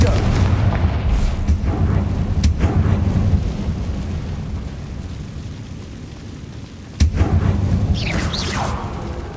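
Explosive spell blasts from Confringo in the video game Hogwarts Legacy, booming over a dense, rumbling game soundscape, with a sharp burst near the end followed by crackling debris.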